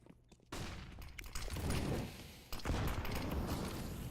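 Gunfire in Counter-Strike: Global Offensive on the Mirage map during a competitive esports match. Dense bursts of rifle shots and echoing reports are heard, steady and fairly loud, with no talk over them.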